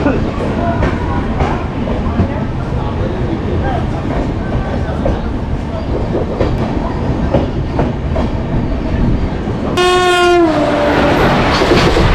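The Saraighat Express, running Howrah to Guwahati, pulls out of a station with a steady loud rumble and clatter of rolling wagons, and near the end a long, close, piercing horn blast sounds over the noise.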